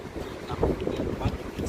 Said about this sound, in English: So this is Sliema in Malta, and it's a very windy day, but still people are out.